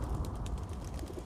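A pigeon coos faintly in a brief, soft call with light chirpy accents over a low rumbling background, no voices present.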